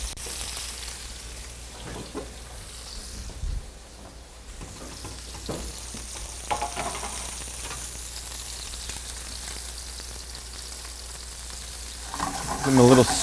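Grass-fed Illinois steaks sear in a hot pan for a brown crust, a steady low sizzle with a few clinks and scrapes as they are stirred, close and continuous, rising slightly near the end.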